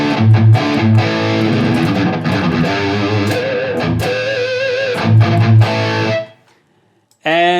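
Distorted electric guitar played through a Nux MG-30 into a Marshall DSL 100H tube amp with EQ and no delay, chugging heavy chords and riffs loudly for about six seconds, then a pause before another hit.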